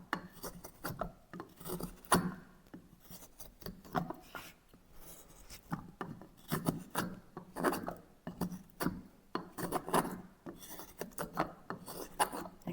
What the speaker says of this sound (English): Let's see if the spoon gouge can handle this kind of hollow.